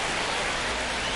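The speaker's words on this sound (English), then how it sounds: "the field's not going to be able to hold up if the rain gets any worse than this" Steady, dense rain pours over a baseball field in MLB The Show, a continuous broadband hiss with no distinct drops standing out, filling the moment evenly from start to finish.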